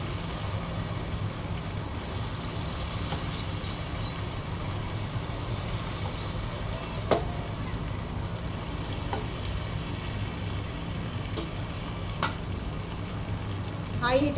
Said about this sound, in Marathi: याच पद्धतीने मी सर्व हे सोयाबीन कोटिंग केलेले सर्व तळून घेणार आहे.